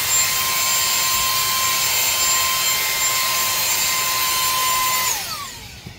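A SAKERPLUS 3-in-1 vacuum blows air as a fan with a loud, steady whine and rushing airflow up close, then winds down as it switches off at the end.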